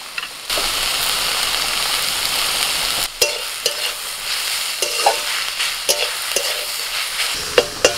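Kharkol leaves fry in a pan with a loud, steady sizzle while being stirred, the hiss broken by several sharp scrapes and clinks of the spatula against the pan.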